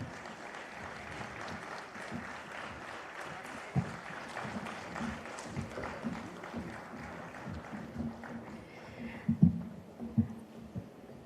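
An audience at a folk music evening keeps up steady, fairly distant applause to welcome a folk singer, with a few sharper claps rising near the end.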